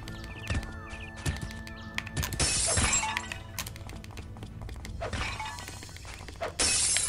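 Glass bottles shatter in the video game Way of the Samurai 4, with several sharp breaking crashes spread among clattering footsteps and hoof-like clops, the loudest bursts near the start and again toward the end.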